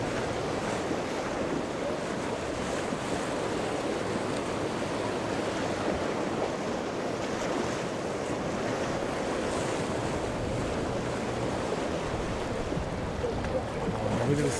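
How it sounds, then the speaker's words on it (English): Ocean waves crash around a small fishing boat at sea, a loud continuous roar of surf and wind noise with no clear break. "The waves are humongous"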